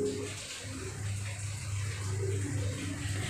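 Water runs steadily into a mushroom masala pan in a home kitchen, a continuous close pouring wash with a low rumble and no break.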